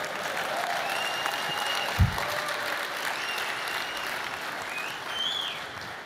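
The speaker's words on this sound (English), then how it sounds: "I love it when you clap" An audience at the Google I/O 2013 keynote gives sustained applause, a dense wash of clapping from a large hall that holds steady for several seconds, with a single louder thump partway through.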